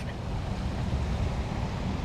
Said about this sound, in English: runoff from the spillway